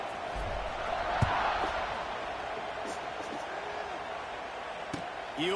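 A stadium crowd buzzing after a score in the NCAA 26 football video game, a continuous low murmur of many voices with a few thuds and faint calls beneath it.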